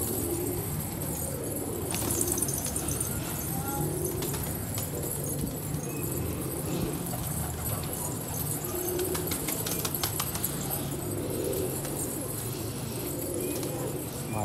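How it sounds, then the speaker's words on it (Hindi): Pigeons coo softly amid a busy outdoor ambience, with occasional wing flaps and a steady murmur of background noise throughout. "ये कबूतर चेक करें"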